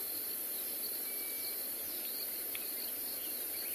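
Soft bird calls and insect chirring carry over a steady outdoor hiss at sunset on an African safari reserve, faint and distant with no voices.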